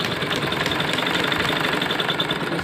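Sewing machine stitching cloth, a continuous close, loud mechanical whir with fast steady rhythm and no pauses, running alone without talk.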